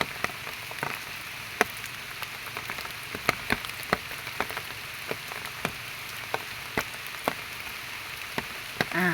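Rain falling in a forest where a land snail has just been released, a steady soft patter of drops on leaves with scattered sharper drips, close by and with no talk.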